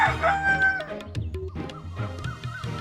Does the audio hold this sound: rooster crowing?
yes